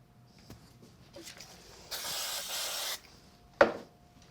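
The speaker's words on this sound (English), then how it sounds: "I'm just going to give it a quick spray on the back." A single short hiss of aerosol spray lasting about a second, fairly close, set against a quiet room with a few soft clicks and taps.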